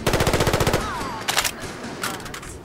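Rapid automatic gunfire in Fallout 4, a fast even string of loud shots up front, then shorter bursts and single cracks with a whizzing tail, close and without talk.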